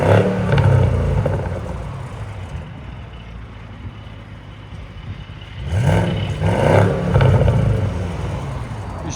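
A 2021 Audi S8 with a 700 hp 4.0L twin-turbo V8 and resonator delete rumbles loudly at close range, eases to a quieter idle, then is blipped through two or three sharp revs near the end.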